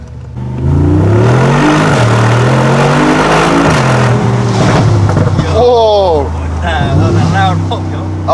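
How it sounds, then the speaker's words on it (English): Loud Mercedes G63 AMG V8 under hard acceleration, revving and droning close by, with crackling exhaust pops toward the end while people talk and exclaim over it. "the crackle and pop sounds insane."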